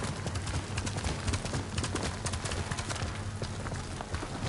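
Horse hooves clip-clopping at a steady riding pace in the Ghost of Tsushima video game, a continuous rhythmic patter with faint ambient outdoor sounds underneath.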